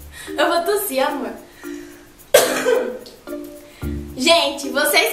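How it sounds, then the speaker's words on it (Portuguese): A woman coughs a few times in sharp bursts, close by, with talking around the coughs. "Eu vou tossir, amor."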